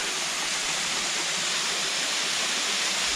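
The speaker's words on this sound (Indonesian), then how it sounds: "Kita udah mentok di air terjun." A waterfall in a forest pours with a steady, loud, continuous roar of rushing water throughout, close by and without pause.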